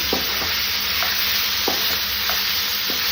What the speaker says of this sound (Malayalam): കറിവേപ്പില ഇടട്ടെ.